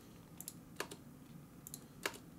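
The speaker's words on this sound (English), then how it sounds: "by clicking on the clip and then pressing the Delete key." Clicks and key presses on a computer keyboard while removing clips in Ableton Live 10 music software: a few sharp, separate taps spaced out over a couple of seconds, quiet and close against faint room hiss.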